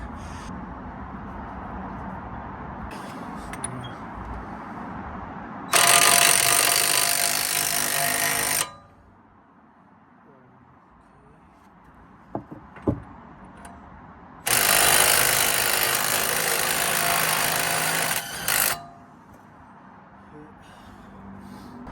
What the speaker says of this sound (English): now let's bolt it all back up